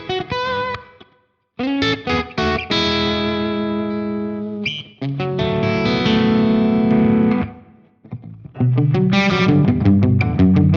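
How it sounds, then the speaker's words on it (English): Distorted electric guitar chords and riffs through an Axe-FX III Mesa Triple Crown preset ring out with a short studio-room reverb, pausing briefly between phrases. "it just has that nice little recording studio room reverb to it"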